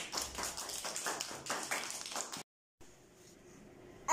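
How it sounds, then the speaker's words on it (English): A small group claps hands for a boy named Ibrahim, a short round of soft, quick clapping that cuts off into silence, followed by a faint background hum. "Clapping for Ibrahim."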